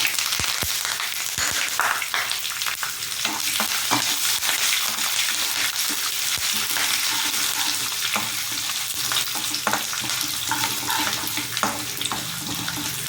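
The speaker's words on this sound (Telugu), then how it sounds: "ఇప్పుడు ఈ దినుసులు వేస్తానండి. పల్లీలు, మినపప్పు, ఆవాలు, జీలకర్ర, ఎండుమిరపకాయలు, కరివేపాకు" Peanuts, urad dal, mustard seeds, cumin, dried red chillies and curry leaves fry in hot oil as a tempering for lemon pulihora, a continuous close, bright sizzle with scattered crackles and pops, no one speaking.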